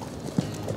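A pony walks with steady clip-clopping hooves, one step standing out slightly louder in the middle of a short stretch, during a riding lesson in the Netherlands.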